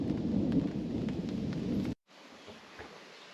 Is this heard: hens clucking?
no